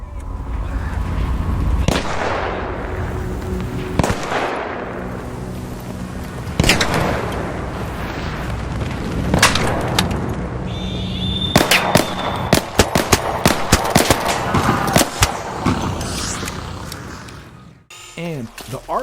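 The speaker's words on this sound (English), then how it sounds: "The sound of gunfire is crisp and explosions have real weight to them." Arc Raiders PS5 beta combat: booming explosions and crisp gunshots strike close and loud, building into rapid volleys of shots near the end before a brief drop-off.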